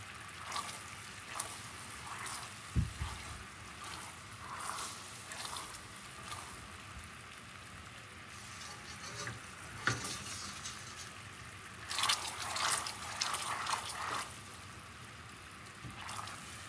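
Sugar syrup being boiled in a pan for gathee sweets, heard as a steady, soft bubbling hiss with faint crackles and occasional stirring scrapes, moderately close throughout with no talking.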